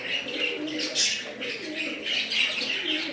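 Soft, continuous cooing of pigeons at a bird market in Barura, Comilla, a low murmuring chorus with faint chirps and occasional wing flutters, fairly quiet and steady throughout.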